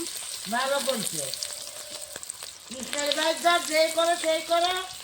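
Paneer pieces fry in a pan with a continuous bright, close sizzle, while a tonal, voice-like sound rises and falls over it in two stretches.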